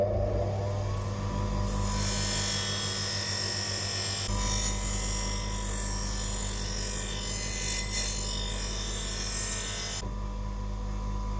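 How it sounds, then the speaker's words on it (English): A bench grinder's polishing side trims oxidized coating off metal before welding, giving a continuous loud whirring grind with a steady low hum throughout, easing slightly near the end. "go to the bench grinder behind me first and just use the polishing side of it to trim off the oxidized material"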